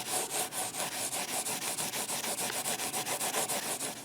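A Scotch-Brite pad scrubbed quickly back and forth over the frets of a Telecaster guitar neck, a close, steady rhythmic rasping with about five strokes per second, heard alone.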